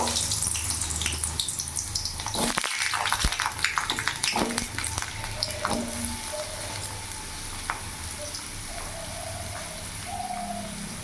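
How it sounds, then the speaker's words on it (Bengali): Cut potato pieces frying in hot oil on a gas flame, a loud, continuous, close sizzle with a sharp crackling burst early on and faint scattered clinks and chirps. "আমি এইরকম সাইজ করে আলু কেটেছি, আলুগুলো ভেজে নেব।"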